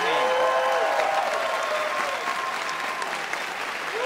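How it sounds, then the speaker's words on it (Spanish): A studio audience at a Colombian TV talk show applauds for Gordo Benjumea, with dense, steady clapping and some crowd cheering throughout. "Un aplauso para el gran Gordo Benjumea."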